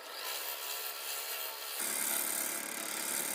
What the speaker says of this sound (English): All right, do some scraping on it.